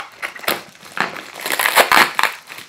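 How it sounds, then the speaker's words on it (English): Small scissors cutting open the packaging of a jaw harp order, heard as close, crisp crunching and crinkling snips in several irregular bursts. "I like to use the little scissors."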